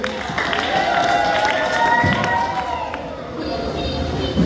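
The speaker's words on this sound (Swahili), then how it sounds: "Chapia Bwana makofi na vigelegele" A church congregation applauding and ululating, a loud continuous wash of clapping with high trilling ululation layered over it, sustained throughout with voices mixed in.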